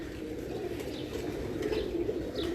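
A Ferozpuri pigeon coos softly, low murmuring calls repeating at close range over a quiet background, with a few faint chirps higher up and no talking.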